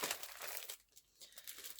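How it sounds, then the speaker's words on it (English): Plastic wrapping around a purse frame shipped in its packaging rustles and crinkles close up, in a continuous faint crackle with a short lull midway. "Apologies for the like rustling, but it's wrapped in plastic."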